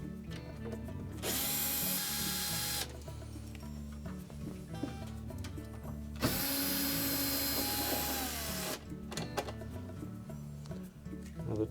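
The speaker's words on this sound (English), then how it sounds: "we're going to remove the number 15 Torx head screws" A power driver backs Torx T15 screws out of a Whirlpool dishwasher door, two loud whirring bursts of about two seconds each separated by quieter handling clatter and clicks.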